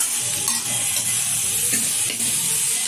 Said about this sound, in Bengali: ভালোভাবে কষিয়ে নিচ্ছি